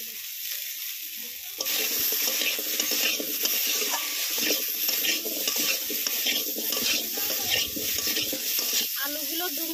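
Potatoes fry in a pan with cumin, turmeric and salt, a steady close sizzle that jumps louder after a quiet start, with scraping stir strokes and light utensil clinks throughout.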